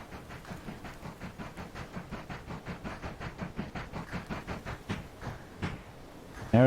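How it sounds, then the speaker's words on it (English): A train rolls into a station in the railway-building game Mashinky, with a soft, steady clickety-clack rhythm that slows, followed by a brief tonal chime at the end. "come down here to welcome the train in."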